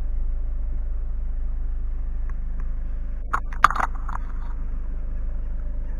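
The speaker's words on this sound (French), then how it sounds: "je vais d'abord ouvrir le capot et vous montrer le moteur que vous entendez déjà" A Peugeot Partner engine idling with the hood being opened, a steady low hum throughout, broken by a brief cluster of metallic clicks and clatter near the middle.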